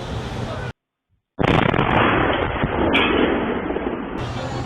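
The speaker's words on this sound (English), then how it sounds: "And it's a pretty large explosion." Explosion from a Russian Shahed drone strike in Poland: a loud broadband blast that cuts to silence, then returns as a sustained roaring burst with crackling debris.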